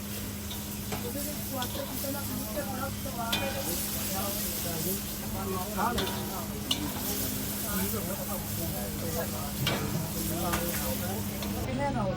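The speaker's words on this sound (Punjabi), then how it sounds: "5 ਤੋਂ 7 ਮਿੰਟ ਇਹਨੂੰ ਅੱਛੀ ਤਰ੍ਹਾਂ ਭੁੰਨਣਾ" Chicken karahi frying in a pan with long-cut green chillies and ginger, a steady broadband sizzle running throughout with occasional stirring scrapes and clinks, while a voice talks over it.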